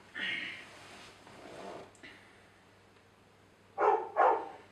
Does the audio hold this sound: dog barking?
yes